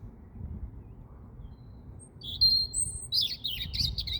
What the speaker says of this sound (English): I think that's the bird that making the chirp, but look at the size and hear the sound that is making.